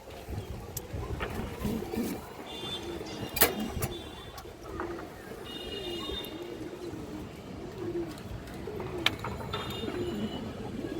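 A silver female pigeon coos softly and repeatedly nearby, with low burbling calls under a murmur of background noise and a few sharp clicks or taps, with no clear talk.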